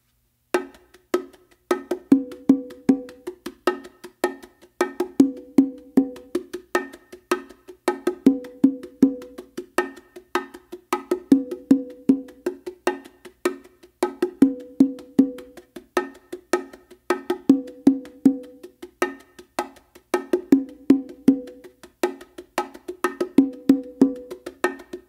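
Bongos play a looping ghost-groove pattern of soft taps and crisp accented hits, repeating in an even, steady rhythm for about 25 seconds, close and clear with no voices.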